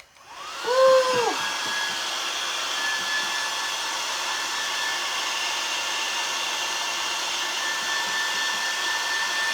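A hair dryer switched on to dry a wooden craft kit piece, starting with a rising whine and then a steady loud whooshing drone that runs without a break, close by and with no talk.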